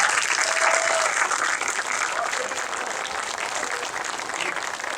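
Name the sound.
applause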